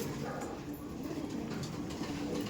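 Kaldom pigeons in a loft, low soft cooing rolling on steadily, close by over a continuous background hum.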